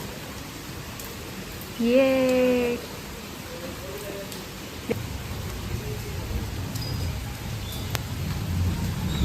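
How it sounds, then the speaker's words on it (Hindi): Steady heavy rain on a veranda, a continuous broadband hiss throughout. A child's high-pitched voice rings out briefly near the start, and a short spoken word occurs over the rain. "बारिश भी बहुत अच्छी बारिश हो रही थी यहाँ पे"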